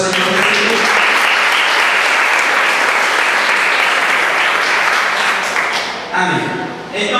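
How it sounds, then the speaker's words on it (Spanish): A church congregation bursts into loud, sustained applause during an evening sermon, filling the room with thick clapping that fades near the end as a preacher's voice returns. "cuando le damos un fuerte aplauso al Señor Jesús"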